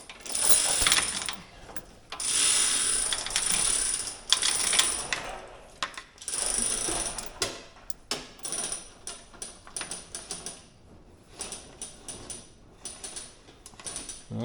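A ratchet jack raising a loose radiator on a KW truck, bursts of rapid metallic clicking at first that break into shorter spaced clicks and clunks, fairly close and without talking.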